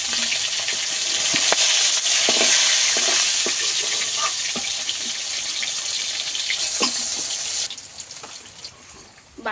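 Aila fish fry in hot oil with a loud, dense, continuous sizzle and crackle heard up close, easing slightly toward the end, with no voices.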